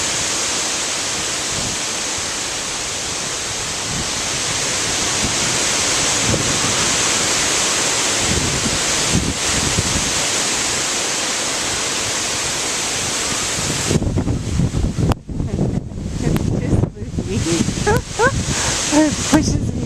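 Strong gusting wind buffeting the microphone outdoors, a loud continuous roaring rush that breaks into choppy bursts of rattling near the end.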